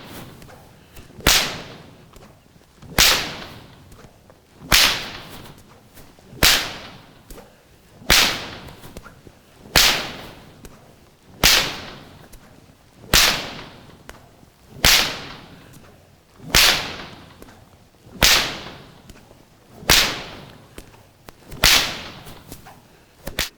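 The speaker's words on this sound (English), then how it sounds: "And after I start to use bull whip" Loud bull whip cracks in a horse round pen, about fourteen sharp snaps at a steady rhythm of roughly one every one and a half to two seconds, each with a short ringing tail, no talking.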